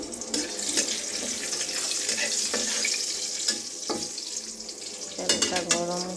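Whole cinnamon, cardamom, bay leaves and cloves sizzle and crackle in hot oil in a wok, a close, continuous frying hiss with scattered pops and the clink of stirring.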